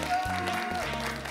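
Studio audience applause greeting guests on a Kyrgyz TV music show, a brief burst of clapping with a host's voice over it.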